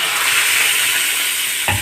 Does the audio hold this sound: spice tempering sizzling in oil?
yes